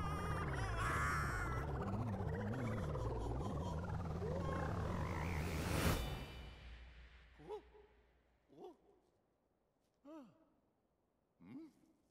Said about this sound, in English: You captured a frog!